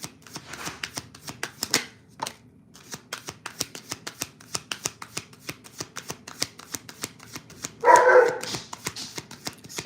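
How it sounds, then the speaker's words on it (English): A dog barks in quick repeated bursts, close and fairly loud, over a rapid rustling clatter like shuffled cards, with one sharper louder bark near the end. "Excuse my dog."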